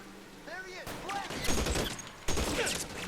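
Gunfire in the L.A. Noire game comes as rapid, sharp volleys, starting about a second in and returning in a second burst, mixed with whistling, chirping game sounds and a voice talking over it.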